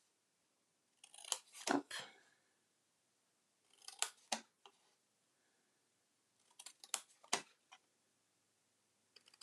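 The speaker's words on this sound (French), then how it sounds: "en bas, je vais couper chaque pli, en fait, pour ouvrir" Scissors snip through the folds of a paper treat box being made by hand, in three close bursts of crisp cutting strokes with quiet pauses between, and a brief word spoken at the start.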